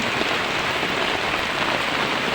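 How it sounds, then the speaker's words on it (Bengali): Steady rain pattering on a surface, a dense even hiss with no breaks, fairly close and continuous throughout. "সারাদিন বৃষ্টি হচ্ছে একদম বর্ষা হয়ে গেছে"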